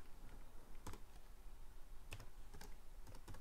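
Quiet typing on a computer keyboard, scattered keystrokes in short bursts with gaps between them, close and soft against a hushed room, no voices.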